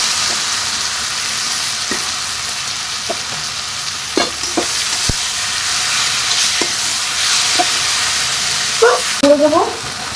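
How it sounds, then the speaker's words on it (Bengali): Boiled taro greens hit a pan of onion and garlic fried until reddish, giving a loud, continuous sizzle with scattered scraping and stirring clicks and a few short clanks near the end. "আমি এরপরে এখানে এই সেদ্ধ করে রাখা কচু শাকটা দিয়ে দিলাম"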